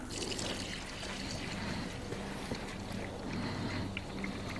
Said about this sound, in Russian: Вот это наша водопроводная вода, которую мы пьем. Для сравнения, наберу в стакан